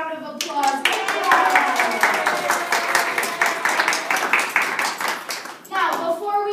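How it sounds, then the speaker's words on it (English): Enthusiastic clapping from a school crowd at a March Madness celebration, dense and loud for several seconds before tapering off, with children's voices mixed in. "You guys all get a round of applause"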